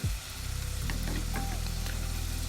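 Spices with turmeric fry in a pan for a banana flower curry with fish head. A short clatter opens into a close, steady sizzle that continues evenly.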